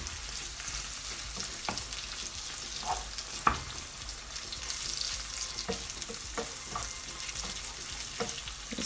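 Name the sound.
breakfast sausages with tomato ketchup being mixed in frying pan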